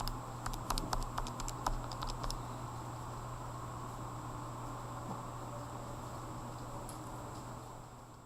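Quick light key taps on a graphing calculator keypad, a short burst of soft clicks at the start, then only faint background hiss.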